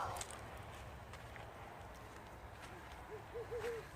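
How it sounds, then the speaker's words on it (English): A faint owl hoots several times in a short low series near the end, distant against steady outdoor background noise at Mount Rainier around sunset. "Hear the owl? Hear him?"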